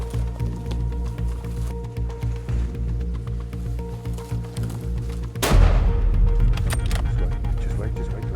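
A single loud rifle shot at a buffalo bull cracks sharply midway, breaking a steady engine-like hum, and a lower rumbling echo follows it.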